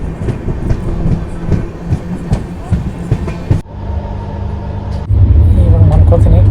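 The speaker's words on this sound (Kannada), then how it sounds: "ಈಗ ಹಿಂದೂಪುರ ರೈಲ್ವೆ ಸ್ಟೇಷನಿಂದ ಡಿಪಾರ್ಟ್ ಆಗ್ತದೆ ನೋಡ್ರಿ" Kacheguda Express pulling out of Hindupur railway station, a steady rumble of the moving train growing louder near the end, with a person talking over the first half.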